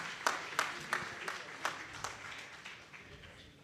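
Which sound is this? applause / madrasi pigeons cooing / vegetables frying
applause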